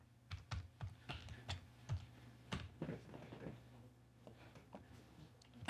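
Someone types a chmod command on a computer keyboard: quiet, close keystrokes in short irregular bursts with brief pauses between them.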